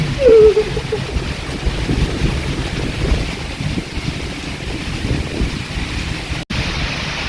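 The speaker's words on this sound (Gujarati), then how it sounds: "પવન વધે ગયો ને" Strong wind roars and buffets steadily, a loud, rumbling gusting noise that fills the whole stretch without pause.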